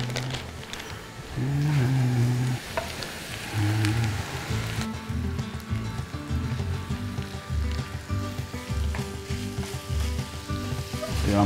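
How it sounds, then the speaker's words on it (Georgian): Ground beef frying in a pan with butter and oil after onion and garlic, a continuous moderate sizzle with a few louder bursts early on. "კარგად რომ მოითუშება, ჩავყაროთ საქონლის ფარში."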